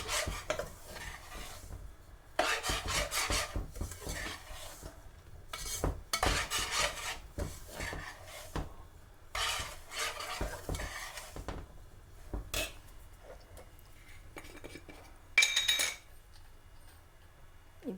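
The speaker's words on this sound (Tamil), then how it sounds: "தேங்காய் பூவும் போட்டு நல்லா வறுக்கணும்" Grated coconut being roasted with rava in a pan, with bursts of scraping and stirring from a spatula, soft dry rustling and metal clinks coming in irregular clusters between quiet pauses, close by with no talk.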